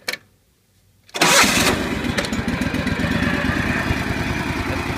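An old loader's engine is cranked and catches after a brief silence, then settles into a loud, steady, close idle with a rapid chugging pulse and no voices.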